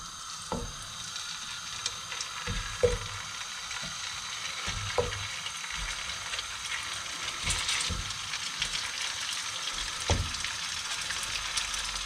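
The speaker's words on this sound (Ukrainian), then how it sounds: "налив трошки олії і треба зараз обжарити добре м'ясо" Meat fries in a little oil for plov, a steady soft sizzle running throughout, broken by scattered clunks and scrapes of a utensil against the pan.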